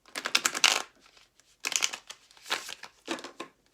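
Tarot cards being shuffled by hand in four quick bursts of riffling and flicking, close and crisp, separated by short pauses, with no talking.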